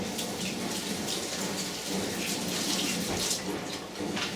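Basil leaves are rinsed under a running kitchen tap, giving a steady, fairly faint wash of splashing water that runs unbroken throughout with no voices.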